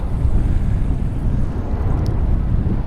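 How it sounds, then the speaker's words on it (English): Strong wind buffeting the microphone outdoors at a fishing spot, a loud constant low rumble with gusting texture and no talk. "It's a little windy today and I'm worried about the tripod getting knocked over."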